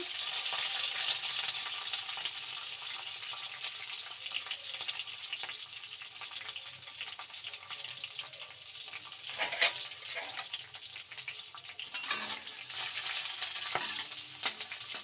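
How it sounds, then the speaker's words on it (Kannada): Green chillies, curry leaves and garlic fry in oil in a pan, giving a continuous close sizzle with occasional stirring clinks and scrapes, no talking. "ಹಸಿಮೆಣಸಿನ್ಕಾಯಿ ಫ್ರೈ ಆಗಬೇಕು ಎಣ್ಣೆಯಲ್ಲಿ"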